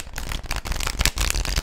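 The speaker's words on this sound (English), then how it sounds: "I want to shuffle them while I'm giving you your horoscope." A deck of tarot cards being shuffled up close, a dense, continuous crackling riffle with brief louder snaps and no voices over it.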